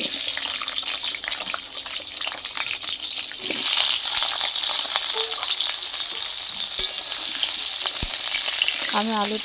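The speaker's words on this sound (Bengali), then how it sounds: "তো আমি এখন মাংসের জন্য আলু ভেজে নেব" Potatoes frying in oil for a meat dish, a loud continuous sizzle with stirring scrapes and occasional clinks, close by and steady throughout.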